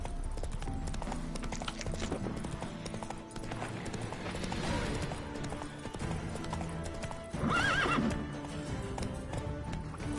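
Roach, a horse in The Witcher 3, gallops with steady hoof clip-clop through the clip and gives a loud whinny near the end, over game ambience.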